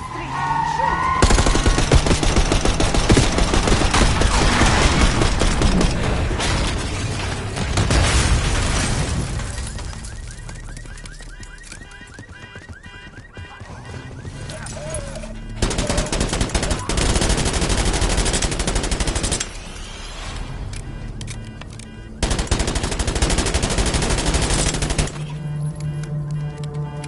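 Heavy gunfire in Black Ops 6 during a street ambush on a limo: long sustained machine-gun bursts and explosive booms, loud and dense, broken by short quieter gaps, with a game score underneath.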